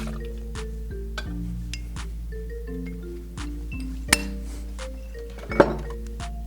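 Bourbon poured into an Old Fashioned-style cocktail glass with cola syrup, giving soft liquid trickles and drips with a few light glass clinks, heard under steady background music.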